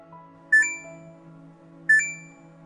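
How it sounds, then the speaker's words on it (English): Alarm on an LG washer for an ezDispense auto-dosing drawer left not fully closed: two short electronic double-beeps about a second and a half apart, clear against a faint background hum. "Sensors will automatically detect if drawer is not fully closed and notify you by flashing OPN in the display while sounding an alarm."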